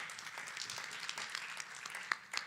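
Audience clapping for a brand ambassador at an event, faint and distant, a soft steady patter of many hands with a few sharper claps near the end.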